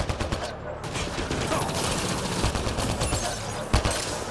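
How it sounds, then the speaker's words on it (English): Gunfire recorded for Mass Effect Andromeda weapon sounds, from automatic weapons, handguns and shotguns: dense, continuous rattling bursts with a sharper report near the end, loud and close throughout. "We recorded the sounds of automatic weapons, handguns and shotguns, and all the different types of weapons you have."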